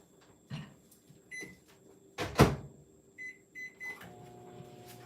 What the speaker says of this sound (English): back into the microwave it goes